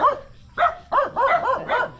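An agitated dog barks in bursts outdoors, one bark, a short gap, then a rapid string of about five loud, close yappy barks.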